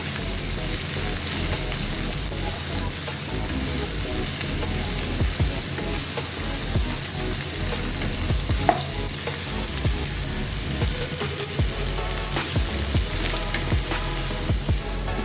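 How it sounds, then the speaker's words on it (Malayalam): Dates sauté in a pan with pickle powder and Kashmiri chili powder, giving a steady sizzle over fifteen seconds, with frequent scrapes and clicks from stirring. A faint voice sometimes surfaces underneath. "കാശ്മീരി മുളക് പൊടി കഴിച്ചിട്ട് നന്നായിട്ടൊന്ന് വഴറ്റിയിട്ടെടുക്കാം."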